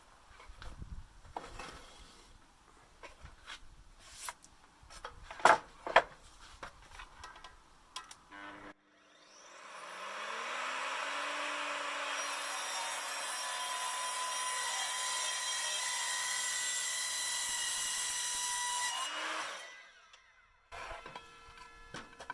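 An Evolution F255SMS mitre saw cuts through oak handrail, its motor winding up to a loud sustained whine for about ten seconds before spinning down. Clattering handling and shuffling of wood come before and after, with no talk.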